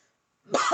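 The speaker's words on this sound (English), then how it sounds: "Sorry, I have that cough that I have." A single short cough bursts in after near-silence, close and fairly loud, cut off at the end.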